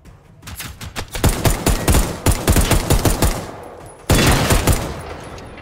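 Machine gun fire in Generation Zero, loud, close bursts of rapid evenly spaced shots, a long stuttering string, a brief pause, then another heavy burst.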